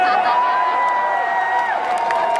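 Rally crowd at a Keep Corbyn Labour Party gathering, a dense, steady roar of many voices cheering and shouting, loud and continuous throughout with a few whoops rising above the mass.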